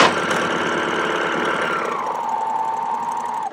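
Air thread serger sewing machine running fast and close, a continuous loud mechanical whir with rapid stitching rattle that slows in pitch as it winds down and stops.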